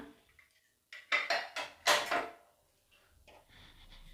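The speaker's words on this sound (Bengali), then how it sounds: "40 মিনিট পর আমি প্রেসার কুকারের ঢাকনা খুলে দেখছি কেকটা হয়েছে কিনা।" A pressure cooker lid being opened after baking an eggless orange cake inside, giving a short run of close metallic clanks and scrapes, with softer handling clatter trailing off afterward.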